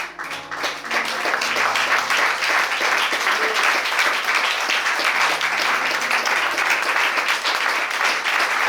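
A church congregation applauds with steady, dense clapping that rises quickly and stays loud and even for several seconds, with little talk over it.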